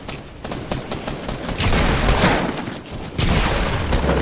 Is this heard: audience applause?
no